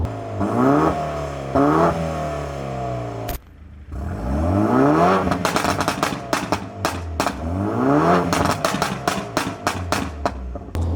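A tuned 265 hp BMW F10 520i Stage 1+ engine revs hard through rising gear pulls, and the exhaust cracks with a fast series of loud pops between accelerations.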